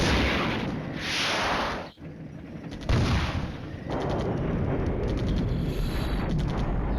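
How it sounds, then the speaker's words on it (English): Artillery fire in the war game Flashpoint Campaigns: Red Storm, heavy rumbling blasts with deep impacts and a sharp boom midway, layered over a continuous roar of battle noise. "Yeah, this is artillery."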